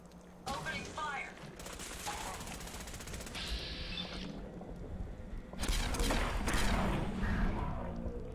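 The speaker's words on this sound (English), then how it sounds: "Opening fire!" Gunfire in the video game Fallout 4: bursts of rapid automatic shots in two volleys with a mechanical whir between them, a voice briefly heard among the shots.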